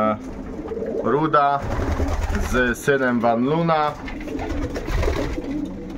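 Pigeons coo in soft, repeated phrases from a breeding pair at the loft, sounding fairly close and mixed in with someone talking over them for most of the stretch.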